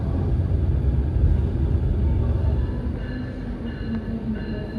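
Passenger train rolling past on an Indonesian railway line near Yogyakarta, a steady loud rumble of wheels and carriages with faint rising tonal whines in the later seconds, no talk.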